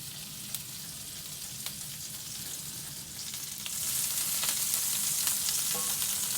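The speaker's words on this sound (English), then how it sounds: "our skillet is ready and hot. So let's go ahead and add some butter" Butter and garlic sizzling in a hot skillet, a continuous close frying hiss that swells louder partway through, with faint scattered clicks of a utensil and no talk.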